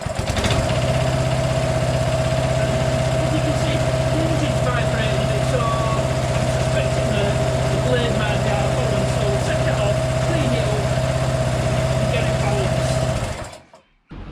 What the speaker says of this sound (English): As you can see, the engine's vibrating